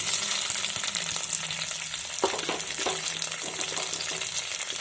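Crushed ginger and garlic fry in hot coconut oil for a Lakshadweep-style octopus roast, a steady close sizzle broken by a few sharp scrapes and clacks of stirring, with no talking.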